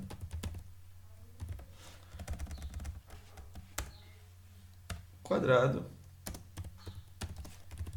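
Computer keyboard typing: sparse, irregular key clicks over a low steady hum, with a brief louder flurry of keystrokes partway through.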